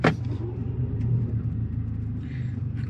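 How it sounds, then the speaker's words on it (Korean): Low exhaust boom inside the cabin of a 2017 Mercedes-Benz A45 AMG, a deep steady droning rumble with a brief sharper burst at the start, no talking. "생각보다 실내로 이 배기 부밍음이 그렇게 많이 안 늘어나 봐요."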